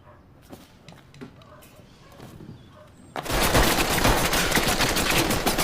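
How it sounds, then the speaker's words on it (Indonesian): Gunfire erupts in a film scene as CIA agents shoot Pablo Escobar: after a few quiet seconds of faint background, a sudden dense, loud burst of shots roars on without pause to the end. "Kemudian agen CIA datang dan langsung menembaki Pablo."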